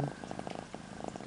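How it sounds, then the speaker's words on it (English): Small female cat purring close up, a soft rapid rhythmic rumble pulsing steadily throughout, quiet and alone. "You could sort of zoom in on the purr."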